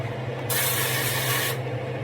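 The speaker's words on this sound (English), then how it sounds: "It can't hurt to spray a pan." A steady hiss of aerosol cooking spray onto a pan lasting about a second, close by, over a low background hum.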